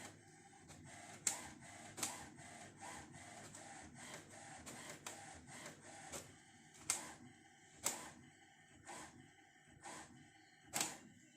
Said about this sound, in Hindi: देख सकते हैं हमारा कॉन्फ़िगरेशन पेज, फर्स्ट पेज जो ऑन होने के साथ बाहर निकलता है वो निकल रहा है।